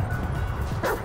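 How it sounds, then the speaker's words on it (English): Dog barking in the Grand Theft Auto 5 video game, one short loud bark over a dense rumbling game background. "This right here is one sick, nasty-ass motherfucking dog."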